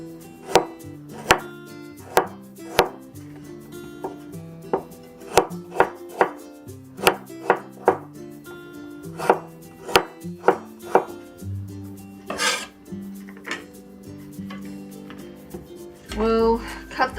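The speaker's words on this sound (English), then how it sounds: "next let's slice the ginger" A knife slices ginger on a cutting board in a steady run of crisp, close chops about once or twice a second. The cuts give way to rustling and handling noise near the end.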